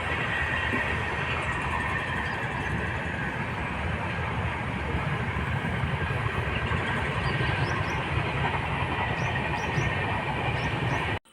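A continuous low rumble and rattle of a train passing nearby, steady and loud throughout, with faint high squeals.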